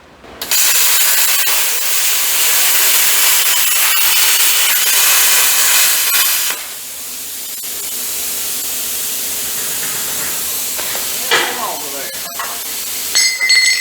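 A plasma cutter slices through steel crossmembers on a homemade trailer, a loud continuous hissing roar lasting about six seconds, then a quieter steady hiss with a few sharp pops and crackles near the end.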